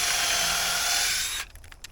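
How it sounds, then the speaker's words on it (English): A power drill bores into wood while a raised garden bed is being built, a steady loud whine for over a second that cuts off abruptly, followed by a few faint knocks and rattles. "And I'm going to drill right where this one was."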